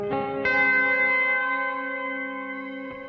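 An electric guitar played through a NUX Duotime delay and reverb pedal into an amp rings out as a single sustained chord, struck twice, with a long, shimmering, slowly fading tail and no talk.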